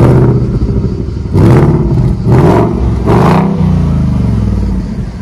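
A 2020 Ford Mustang Bullitt V8 engine revs three times in quick succession, loud and close, each rise rumbling and then dropping back to a deep idle.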